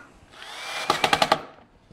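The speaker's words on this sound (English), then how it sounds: "get the drill bit and drill this one" A handheld power drill drives a screw into an Adirondack chair, a short whirring burst that ramps up and then breaks into several quick, close pulses before stopping.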